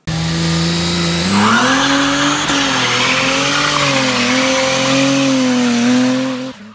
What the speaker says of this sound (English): Will she do a burnout?